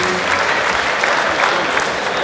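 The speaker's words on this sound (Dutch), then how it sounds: "Ook hij krijgt natuurlijk het applaus van het publiek." An audience at a 2005 professional darts match applauds steadily, a dense, even wash of clapping filling the hall throughout.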